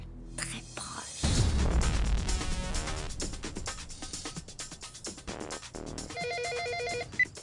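A telephone rings in a French-dubbed telenovela scene, a clear ringtone with a bright repeating trill heard over background music and soft voices, fairly loud and steady before a final sharp accent.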